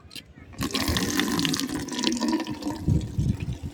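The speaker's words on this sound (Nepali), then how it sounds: "फुलमा पनि पानी लाउँदै गर्नु पर्यो" Running water splashing steadily while flowers are watered, a continuous close pour with small bubbling variations throughout.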